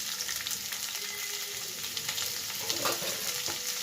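Ingredients for egg noodles frying in a pan over low heat, a continuous close sizzle with scattered stirring scrapes and small clatters toward the end, no one speaking.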